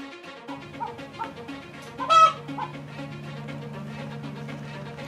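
An adult chicken clucks in a coop where a giant python has entered, giving a run of short nervous clucks with one louder squawk, over a steady low hum.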